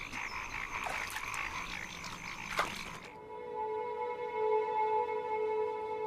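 Frogs croak at a pond in a dense rhythmic chorus, then one steady droning call holds on alone, near and continuous.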